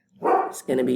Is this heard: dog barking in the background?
yes